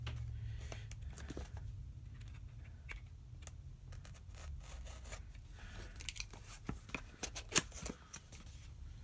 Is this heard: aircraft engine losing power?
no